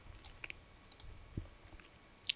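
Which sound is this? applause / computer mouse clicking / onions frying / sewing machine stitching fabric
computer mouse clicking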